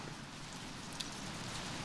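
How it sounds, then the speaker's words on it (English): Rain beginning to fall at night in a forest around a tent, a faint, steady hiss of drops pattering on surfaces with a single slightly louder tap partway through. "I don't know if those are leaves falling or if it's starting to rain."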